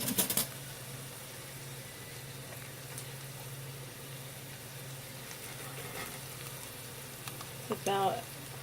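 Onions frying in a pan for a beef and chorizo pasta sauce, a faint steady sizzle with short clatters of utensil contact at the start and near the end.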